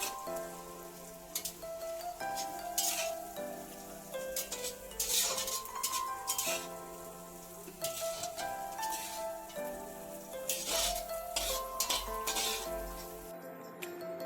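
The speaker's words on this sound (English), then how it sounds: "Now I'll empty all these prawn in a big bowl so that it will become cool." Cooked spicy prawn pickle is scraped out of a metal cooking pot into a big bowl, making repeated light clinks and scrapes of a utensil against metal over steady background music.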